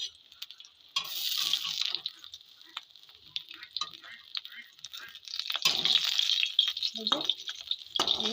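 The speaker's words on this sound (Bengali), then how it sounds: "মাছ কাটা ভাজা হয়ে গেছে লাল লাল করে" Pieces of fish fry in hot oil in a wok, giving a steady close sizzle that swells in louder bursts as they are stirred and lifted out, with brief scraping touches.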